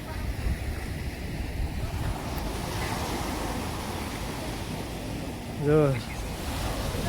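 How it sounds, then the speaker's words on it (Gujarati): Ocean surf rolls in at Miramar beach, a steady wash of waves and wind buffeting the microphone, with a brief voice rising over the noise near the end. "એકદમ આ બાજુથી એટલું પાણી લોડ સાથે આવે"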